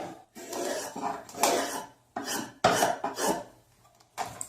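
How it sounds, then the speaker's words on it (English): A spokeshave takes repeated shaving strokes along the flat side of a carved wooden spoon, close and crisp, each rasping pass separated by short pauses. "one nice thing about having a flat-sided spoon is you can use your spoke shave"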